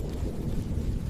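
Thunder from an approaching storm over the savanna, heard as a brief, low, muffled rumble, with a wind-like roar around it and no voices.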